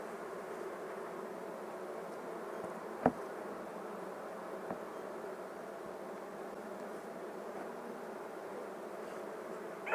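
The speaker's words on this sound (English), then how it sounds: "plenty of bees working." Honey bees buzz at an open hive during an inspection with capped honey and fresh comb, a steady dense hum of many bees close to the microphone, with a couple of faint knocks and no talking.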